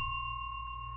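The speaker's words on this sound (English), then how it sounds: "Yes, I rang that bell again." A single small bell rings once in a quiet room, a clear, sustained metallic tone that slowly decays.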